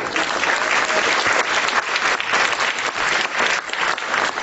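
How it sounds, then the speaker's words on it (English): Audience applause for Borough President Don Marshall at a 2013 town hall gala, a dense, steady wash of clapping that stays loud and unbroken throughout, with no talking over it. "So thank you, Don Marshall, who deserves an even bigger round of applause"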